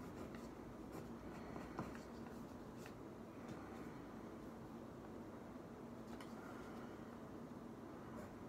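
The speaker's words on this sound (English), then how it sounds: "Connecting to him as I'm writing down his name." A pen scratching on paper while a name is written, a faint continuous scraping with soft strokes in a quiet room, no talk.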